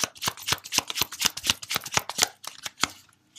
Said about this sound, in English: let's get a few cards from my deck